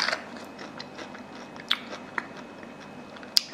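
Someone bites into a crunchy, sweet peach: a few sharp, crisp crunches spaced apart at close range, with quiet chewing between them and no talk.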